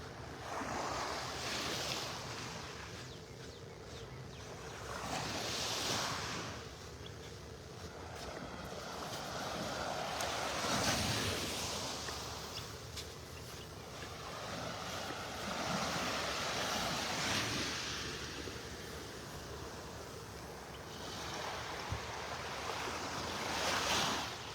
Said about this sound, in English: The waves and the birds.